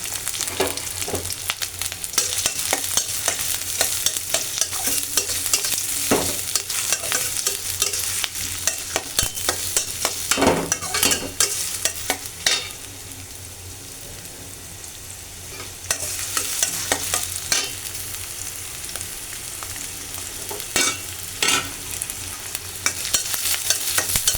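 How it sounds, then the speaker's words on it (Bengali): Green chili and spice paste fry in hot oil, headed for a taro and dried fish curry, with a continuous close sizzle broken by repeated scraping stirs of the spoon through the pan. "সেটা আমি পেস্টে ভাজা ভাজা করে নেব"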